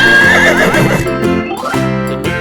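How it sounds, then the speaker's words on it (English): A horse gives a loud, close whinny with a wavering pitch, followed by snorting breaths, heard alone without voices. "Horse."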